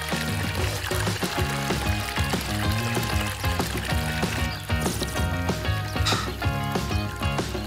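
Water pours and splashes steadily from a punctured bag used as an outdoor shower, partly buried under loud music playing throughout.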